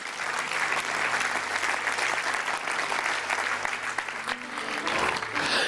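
A church conference audience applauds loudly and steadily, a dense wash of many hands clapping together that holds from start to finish.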